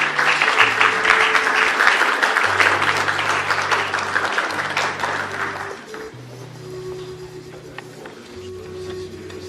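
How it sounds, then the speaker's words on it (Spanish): Audience applause at an academic philosophy lecture welcoming the speaker, dense clapping for about six seconds that fades away, over steady low sustained tones that continue alone afterward. "Por favor, un aplauso para él."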